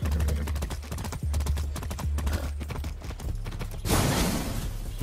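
A horse's hooves clip-clop in a steady, close rhythm in the Far Cry 6 video game, with a louder burst of noise swelling over the hoofbeats near the end.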